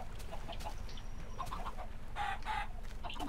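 Chickens clucking in a Minecraft automatic chicken farm, faint scattered clucks and a couple of short squawks over steady background noise.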